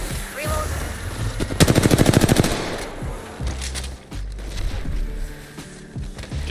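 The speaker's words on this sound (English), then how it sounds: "They're shooting at me." Automatic gunfire in the online shooter Apex Legends, a rapid burst of evenly spaced shots near the middle, set against game ambience and faint teammate talk.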